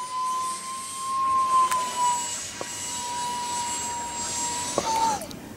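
Electric ducted fan motor on a Lidl RC glider at full throttle, a thin steady whine held at a constant pitch, moderately distant, with faint outdoor background.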